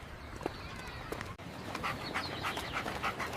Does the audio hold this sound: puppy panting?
yes